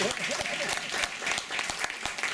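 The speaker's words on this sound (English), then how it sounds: "Give a round of applause." Audience at a 25th birthday celebration applauds a guest of honor invited to the stage: a brief, dense burst of crowd clapping at moderate distance, with some voices mixed in.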